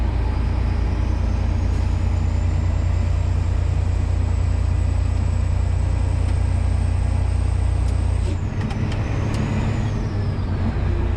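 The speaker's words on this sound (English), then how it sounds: "I keep firing this thing up and torturing my generator in this cold weather" A generator runs steadily in cold weather, its loud constant engine drone filling the whole span, with a few brief clanks and a slight shift in tone near the end.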